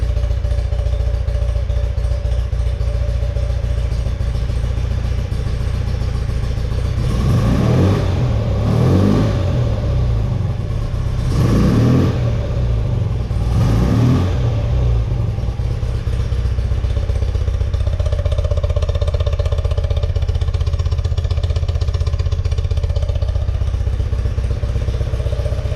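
A 1974 BMW R90S motorcycle idles on a cold start, a steady close engine rumble that swells into four sharp revving bursts in quick succession before settling back to a loud even idle.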